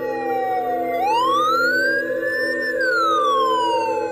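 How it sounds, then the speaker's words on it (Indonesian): An ambulance siren at night, wailing in long rising and falling sweeps over a steady engine drone, loud and close throughout with no voices. "tengah-tengah malam nanti ada suara ambulan"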